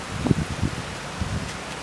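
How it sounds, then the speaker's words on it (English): Wind gusting across an outdoor tennis court, a soft broadband rustle and microphone buffeting with a few low thumps, steady and moderately loud for about two seconds. "Note that the wind grabbed my toss."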